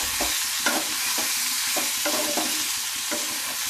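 Papaya is stirred with ginger and sugar in a frying pan for papaya chenchki, with a steady sizzle under repeated scraping strokes of a spatula. It sounds close and fairly loud, and nobody speaks.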